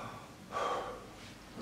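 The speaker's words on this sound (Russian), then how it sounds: "Выдыхай через рот." A person gives one soft exhale through the mouth, a brief faint breathy rush in a quiet room.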